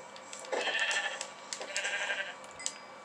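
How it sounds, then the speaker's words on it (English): Sheep in the video game Minecraft bleating in a few short wavering calls, fairly quiet against a faint steady background, with no speech. "I just killed a brown sheep."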